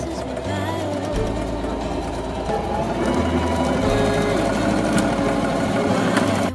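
Sewing machine stitching a patch over a bitten hole in denim fabric. The motor hums steadily and loudly, and the needle clatters rapidly and continuously throughout, with no talking.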